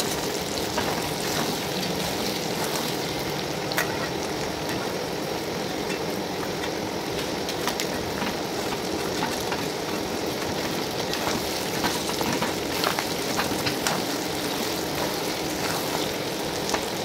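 Chicken scraps fry in plenty of rendered oil, giving a constant dense sizzle and crackle, with occasional scraping taps from stirring, continuing unbroken from start to finish.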